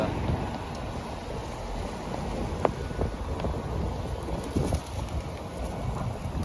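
Rain falls steadily in Medina as a dense, even hiss, with gusts of wind buffeting the microphone and a few faint sharp knocks.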